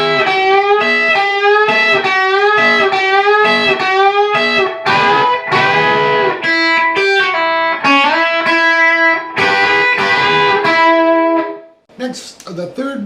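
Distorted electric guitar plays the second measure of the solo from a song slowly, with clear sustained bent notes, loud and alone before cutting off near the end.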